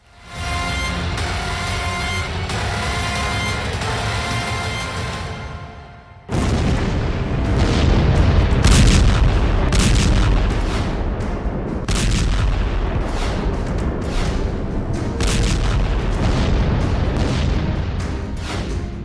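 Heavy booms and blasts from a Russian attack on Ukraine: a sustained loud rumble, then an abrupt massive explosion opening into a dense, roaring wash of further thuds and crackling impacts.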